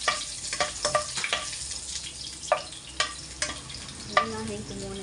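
Garlic sautéing in a pan for mung bean stew, a low sizzle broken by a series of sharp clinks and scrapes of a spatula at irregular intervals, with no voices.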